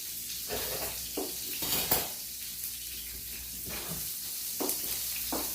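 Italian meatballs sizzle steadily as they fry in a pan, a continuous hiss broken by a few brief clinks and stirring bumps.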